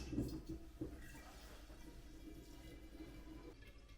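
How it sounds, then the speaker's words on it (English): Homemade wine runs from a pressurized fill line into bottles, giving a faint, close liquid gurgle and trickle that hums quietly and steadily, with no voices. "Now you can start filling the bottles one by one."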